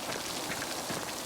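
Rain falling in the medieval mystery game Pentiment, a steady soft hiss of drops on surfaces, even and moderately quiet throughout with no talking.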